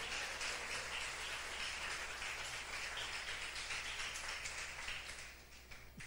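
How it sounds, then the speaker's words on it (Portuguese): Church congregation applauding loudly in praise during an evening service, a dense continuous wash of many hands clapping that fades slightly toward the end, with no talking over it. "Dê um aplauso bem forte, louvor ao Senhor nessa noite"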